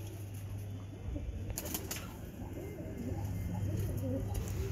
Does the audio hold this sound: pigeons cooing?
yes